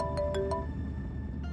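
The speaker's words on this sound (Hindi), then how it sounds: "एक और फोन।" A few quick electronic chime notes ring out at the start, then give way to a faint steady hum.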